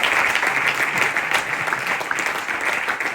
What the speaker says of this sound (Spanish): Dale fuertes aplausos al Señor.